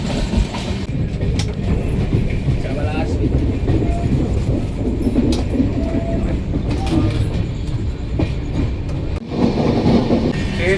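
The 13125 Sairang Express, running from Kolkata to Sairang in Mizoram, makes a loud, steady rumble heard from on board, with rhythmic clickety-clack of wheels over rail joints throughout and a voice speaking under it.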